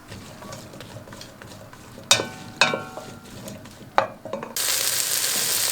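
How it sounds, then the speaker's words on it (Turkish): Chopped peppers hit hot oil in a pot and are stirred, giving sharp scraping clatters of the utensil against the pot, followed by a sudden rise into a loud, steady sizzle. "doğradığımız biberlerimizi birazcık soteleyeceğiz"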